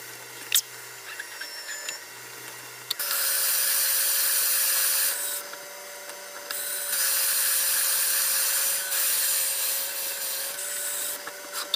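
A hole in a turned wooden jewelry box is widened by hand, with steady rubbing and rasping strokes of abrasive on wood in long bursts broken by brief pauses, close and fairly loud, with no talk.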